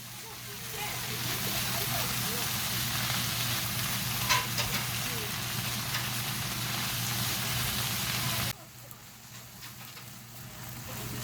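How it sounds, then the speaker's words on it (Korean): Food stir-frying with oyster sauce in a home kitchen, a steady close sizzle with faint scraping and stirring, running continuously before dropping off sharply near the end. "굴소스 를 살짝 넣어서 볶아주면 맛있어요."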